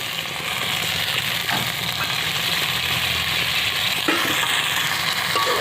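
Rohu fish curry (tel jhal) sizzling steadily in a pan as water is added, a continuous close frying hiss with faint stirring clicks and no talk.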